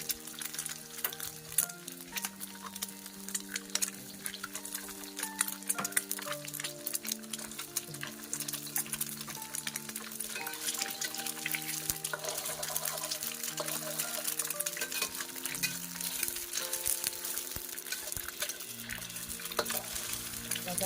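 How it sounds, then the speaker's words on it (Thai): Egg fried rice is stir-fried in a pan, with faint sizzling and repeated scraping and stirring strokes heard under background music. "เราจะผัดข้าวไข่นะคะจี อ่าแล้วเราจะ ผัดกันเดียวนี้เลยนะคะ"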